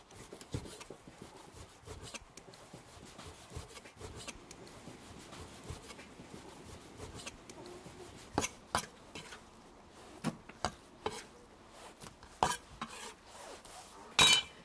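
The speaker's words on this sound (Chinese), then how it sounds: "洗干净了，给它切成大片片。" A knife slices washed pork belly into large pieces on a board, giving close rasping strokes that end in a run of sharp, separate knocks against the board. No one speaks.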